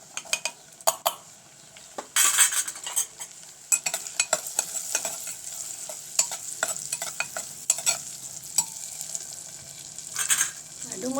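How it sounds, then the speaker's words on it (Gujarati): Chopped onion sautés in a pan while paneer ghotala is being cooked, a steady hiss with frequent sharp scrapes and clicks of a spoon stirring against the metal, close and fairly quiet, with no talking. "ડુંગળીને આપણે થોડી વાર માટે સતળાવા દઈશું"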